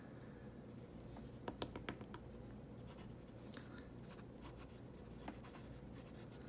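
Zebra Zensations fountain pen nib flexing against paper, drying out rather than writing, giving faint scratchy strokes with a few brief sharper scrapes in quick succession.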